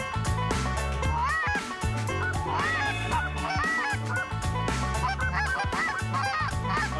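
Canada geese on a waterfowl hunt in Québec, a dense flock honking continuously and loudly at close range, calls overlapping throughout with no pauses.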